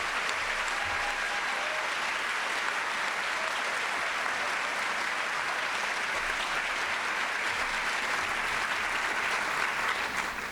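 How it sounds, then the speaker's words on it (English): A large audience at a staff session claps steadily for award winners, a dense, even wash of applause that holds at a constant level throughout, with no voices standing out. "we're going to applaud you one more time."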